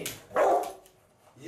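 A dog gives a single short bark indoors during a training session around its food bowl, fairly close and moderately loud, with faint voice-like sounds around it.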